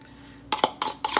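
A spoon clinks against a casserole dish in a home kitchen, four quick, bright taps in two pairs, close and fairly soft, with no talking.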